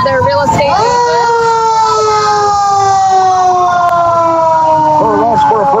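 A rescue squad vehicle's siren wails loudly and continuously at a Christmas parade, a steady descending tone with an engine rumble beneath and a voice talking over it.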